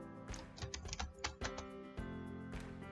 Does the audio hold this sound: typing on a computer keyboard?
yes